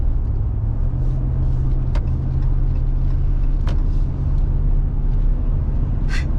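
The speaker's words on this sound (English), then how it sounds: "it's like his exhaust, because it's an old truck and it's burning oil" An old truck that burns oil rumbles loudly nearby, its engine and exhaust droning steadily with a few sharper bursts as the pedal is pressed.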